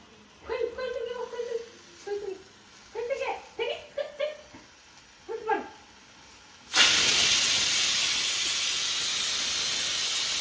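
A pressure cooker of mushroom biryani on the stove lets out its whistle, a loud, sustained hissing blast of steam that starts abruptly and keeps going after a stretch of someone talking.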